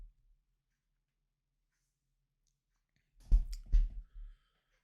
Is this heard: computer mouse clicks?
yes